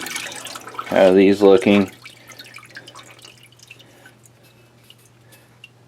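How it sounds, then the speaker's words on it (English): Motorcycle parts from a Honda Trail 90 being washed in a parts washer: faint, scattered dripping and trickling over a steady low machine hum, with a short burst of close talk near the start. "over in the parts washer. You gotta wash this stuff off."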